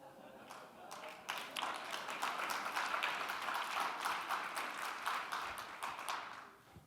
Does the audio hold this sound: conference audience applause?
yes